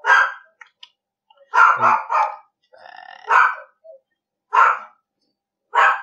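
A dog barks in several sharp, loud bursts close by, with uneven pauses between barks and a short growling stretch in the middle.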